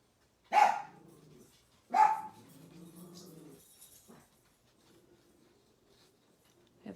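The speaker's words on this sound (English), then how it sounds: "Sorry about the barking dogs." Pet dachshunds barking indoors, two sharp loud barks a second or so apart, followed by quieter grumbling and faint whimpers that fade to near silence.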